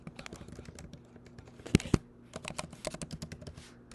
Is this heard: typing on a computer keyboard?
yes